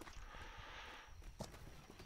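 Hooves of a horse in a video game clip-clop at a walking pace, steady and fairly close, over a noisy game soundtrack with a sharper thud near the end.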